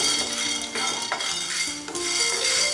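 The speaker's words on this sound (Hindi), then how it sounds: "काली मिर्च को 1 मिनट तक भून लेंगे" Black peppercorns dry-roast in a pan for homemade chaat masala while a spoon stirs them. Repeated clinks and scrapes of metal ring out over a soft rattle and light sizzle, close and fairly busy.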